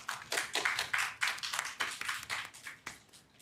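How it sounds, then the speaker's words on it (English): Light audience applause at a university student union election debate, a sparse, fairly quiet patter of separate claps from a small group. "Please give them a round of applause."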